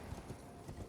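Horse hooves clip-clop at a steady walking rhythm in Elden Ring, close and moderately loud against a dense, noisy game backdrop.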